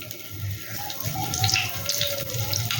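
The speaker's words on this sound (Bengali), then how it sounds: "এবার পটলগুলোকে ভেজে নেব, তেলটা গরমও হয়ে গেছে, এবার পটলগুলো দিয়ে দিচ্ছি।" Pointed gourd (potol) pieces dropped into hot mustard oil in a nonstick pan, giving a steady, close sizzle and hiss with small crackles and no voices.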